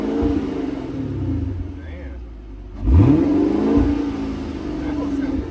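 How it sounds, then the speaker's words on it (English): A 2023 Chevy Camaro 1SS 1LE's engine idles with a deep rumble, then revs sharply once in a loud, close surge before settling back to a throbbing idle, with people talking over it. "You gonna put it in sport? Rev it now."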